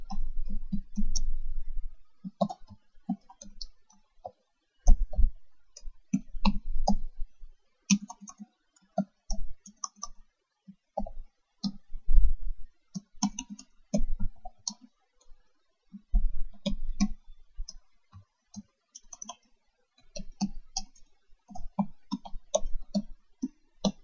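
Bursts of rapid clicking from computer keyboard typing, uneven clusters of keystrokes separated by short pauses, close and clear with no talk.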